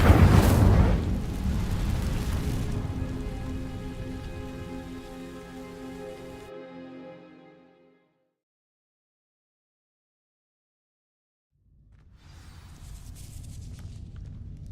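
In Hogwarts Legacy, the Incendio fire spell sets dry vines burning with a loud whooshing crackle that fades and cuts to silence. A fainter rustling crackle returns near the end.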